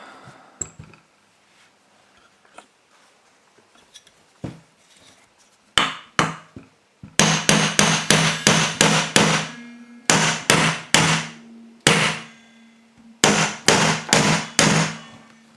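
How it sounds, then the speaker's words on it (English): Loud, sharp metallic hammer blows on a stuck turbocharger part from a Citroen van, a few scattered strikes and then rapid bursts of repeated hits with short pauses between them, close up. "We'll get a bigger hammer."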